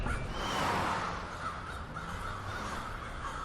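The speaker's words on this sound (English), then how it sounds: "Crows gather in the hundreds to share intel about food sources" Crows caw from a distance against a hushed outdoor background in Halifax, their calls faint and scattered rather than a steady chorus.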